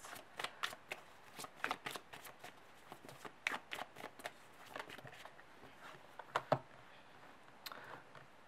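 A deck of tarot cards is shuffled close by, giving quiet, repeated riffling flutters and soft slaps in an uneven rhythm over several seconds.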